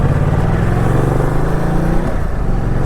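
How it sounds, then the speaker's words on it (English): A 2015 Ducati Multistrada 1200 S with its 1200cc engine holds a steady, loud low-pitched drone, the exhaust note rumbling close by without talk. "you do hear the exhaust, you hear the engine note"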